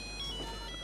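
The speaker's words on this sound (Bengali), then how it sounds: "আরে এই সময় আবার ফোন করে কেটা?" A phone ringtone plays faintly as a steady electronic tone, brief and quiet against a low background hum.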